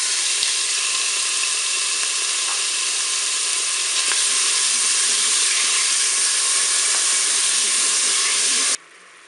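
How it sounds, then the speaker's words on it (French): Bacon lardons sizzling in hot oil inside a Cookeo pot, a loud, steady, close hiss that runs unbroken and cuts off abruptly near the end. "Allez, mon huile est chaude, je vais mettre les lardons dans la cuve."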